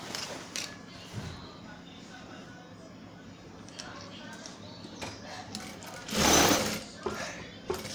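A sewing machine stitches across a ribbon bow, making a faint, steady mechanical whir with scattered clicks, then swelling into a louder burst of running near the end.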